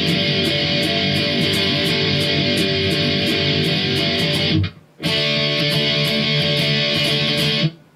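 Distorted electric guitar chugging through a song's verse, dense and loud with crisp picked accents, briefly cutting out near the end of a phrase before resuming; no voices.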